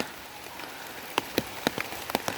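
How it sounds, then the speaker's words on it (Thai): Rain falls outdoors during a stink bean harvest in November, a steady hiss with scattered close, sharp drips and splatters tapping on nearby surfaces. "ฝนก็ปล่อยนะ ดูโทรศัพท์น้องเขาก็เปียกแล้วนะ"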